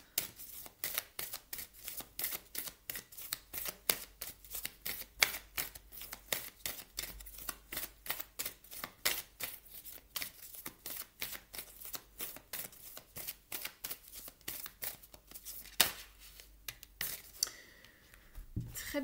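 A deck of oracle cards is shuffled by hand in quick, regular riffling bursts, a long run of crisp close flicks and slaps, ending in a brief rustle, with no voices.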